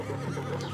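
A horse gives a short whinny, brief and fairly close, under a light background hum.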